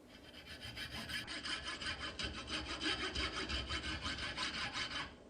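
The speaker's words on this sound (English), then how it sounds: "I'm just using a coping saw here" A coping saw with a blade a few millimetres wide rasps through a rattan sword blank in steady, quick back-and-forth strokes, close and fairly quiet, with no voices.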